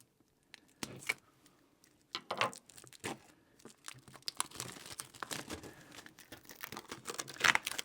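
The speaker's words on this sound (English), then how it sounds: "Let's go ahead and cut into this before we discuss any more." Plastic shrink-wrap on a deluxe album box set being cut and torn open, with scattered crinkles and sharp tearing bursts close to the mic that grow busier toward the end.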